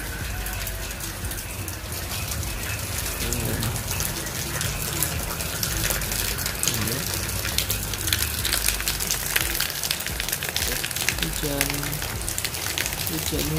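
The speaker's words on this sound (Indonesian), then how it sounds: "Lagi hujan." Steady rain pours down continuously around a house, with frogs nearby and a voice talking faintly underneath now and then.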